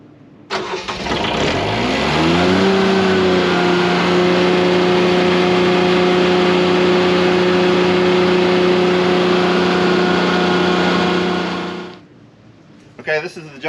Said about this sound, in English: let's move to the next product, show you another startup. All right, we got the Kubota Lowboy.